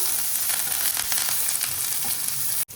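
Chopped onion with broken dried red chillies and asafoetida powder sizzles hard in hot oil in a pan, a loud, steady, close crackle.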